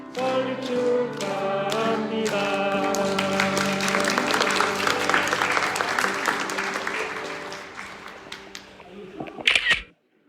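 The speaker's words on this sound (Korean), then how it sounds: "자, 우리 박수 치면서 함께 우리 축하 노래 부르겠습니다." Members of a Korean church in Cape Town clap in a steady rhythm during a 32nd-anniversary thanksgiving service, the even beats running under singing for several seconds before they fade and a brief loud rustle follows.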